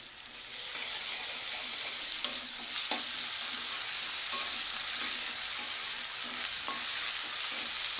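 Half a teaspoon of ginger garlic paste frying in oil for a khadi dal masala curry, giving a continuous close sizzle with occasional spoon scrapes and taps as it is stirred, and no one talking.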